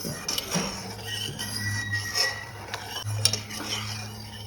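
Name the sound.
stirring gulab jamuns frying in oil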